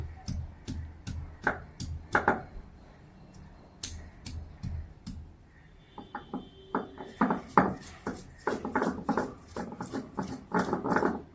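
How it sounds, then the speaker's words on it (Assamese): A coconut ground on a traditional grinding stone in a home kitchen, heard as a series of sharp, irregular scraping knocks and grinding rubs, close and fairly quiet, with denser bursts in the second half. "নাৰিকলটো বটি ল'ম"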